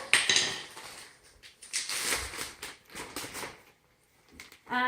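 A buttered metal baking pan is tipped and shifted, giving scattered clanks, scrapes and rattles of metal in short irregular bursts with quiet gaps, and a sharper clatter at the very end.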